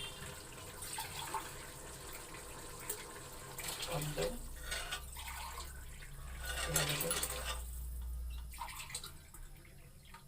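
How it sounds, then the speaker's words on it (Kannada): Measured water splashes steadily into a pot of cooked masala for pulao, with a voice counting over the pouring. "ಇದಕ್ಕೆ ಅಳತೆ ನೀರು ಹಾಕ್ತೀನಿ."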